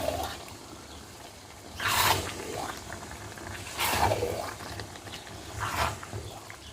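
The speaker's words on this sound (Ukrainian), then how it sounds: "Перемішую з фасульками." Vegetable lecho with young beans being stirred in a pot, three separate swishing, sloshing sweeps spaced about two seconds apart, fairly close and alone.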